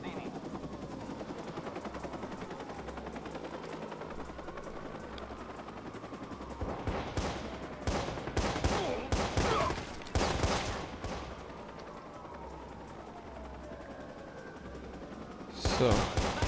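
In the video game Watch Dogs: Bad Blood, a helicopter drones steadily while rapid bursts of gunfire crackle in clusters, fading out, then a final loud volley near the end.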